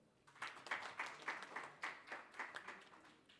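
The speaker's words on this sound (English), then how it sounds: "Let's clap for Paul." A small audience at a research colloquium panel gives brief applause, a sparse patter of distinct claps from relatively few people, fairly faint and short.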